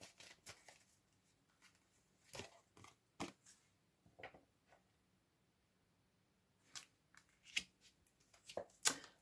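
Tarot cards are shuffled and handled in short bursts of riffling and slapping, with a quiet pause in the middle before a busier flurry at the end.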